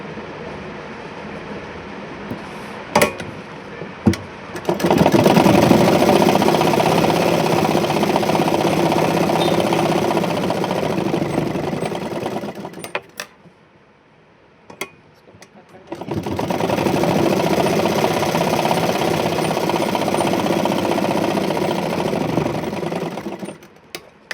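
A sewing machine stitching a 2 inch fabric strip runs in two long, steady, loud whirring bursts, with a short pause between them and a few faint clicks at the start, with no talking.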